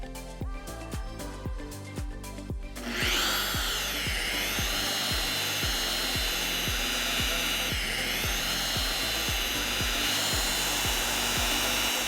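A Lake Country UDOS 51E random-orbital polisher runs at a 21mm throw with a finishing pad and polish, a steady loud electric whir and hum holding for several seconds after a brief start-up pulsing, with no speech.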